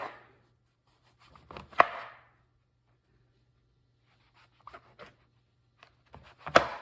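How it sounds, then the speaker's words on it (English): A knife slices a portobello mushroom into thick strips for frying. A few crisp, quiet cutting strokes land against the board, separated by long silent pauses. "So I just flip it over and just start slicing maybe an inch thick."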